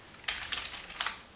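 Keystrokes on a Kinesis Maxim KB201USB keyboard, a few separate clicky taps spaced out over a brief moment, close and fairly quiet with no talking.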